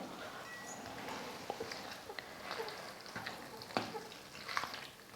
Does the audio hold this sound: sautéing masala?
yes